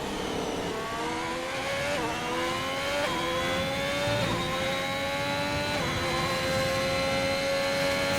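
A race car engine in a racing video game at the Portugal circuit, revving hard through gear changes on the final corner as the pitch climbs and drops repeatedly, steady and close, with no voices.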